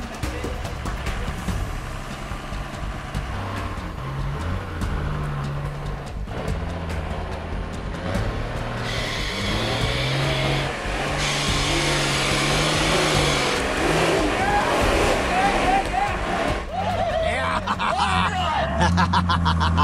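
A 4WD engine revving hard as the vehicle turns and climbs up and off a steep wet bank, a loud sustained roar rising in pitch with wheel noise throughout.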